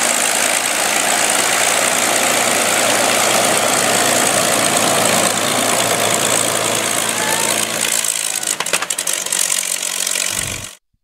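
A P-51C aircraft engine runs at high power during magneto and prop checks, a loud, continuous roar that holds steady before dropping off and cutting out abruptly at the end.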